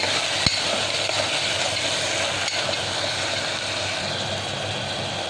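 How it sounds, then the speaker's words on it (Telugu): Soaked moong dal is mixed into oats khichdi in a pot, producing a dense, steady sizzle with one sharp knock near the start. "ఇప్పుడు మనం నానబెట్టి పెట్టుకున్న పెసల్ని ఇందులో వేసేసుకుంటున్నాము"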